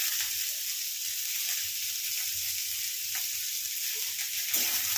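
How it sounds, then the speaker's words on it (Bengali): Onions frying in a pan for lentil khichuri, a steady close hiss and crackle of sizzling oil with a few faint stirring knocks. "ডাইরেক্ট পেঁয়াজটা ভেজে নেব"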